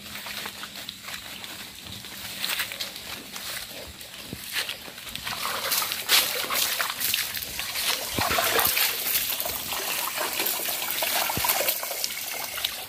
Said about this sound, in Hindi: इसको थोड़ा सा धोएंगे, बाद में खाएंगे